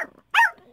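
A tiny 3 lb Yorkie gives one sharp, high yappy bark, close and loud, after a brief softer whine-like sound, then quiet.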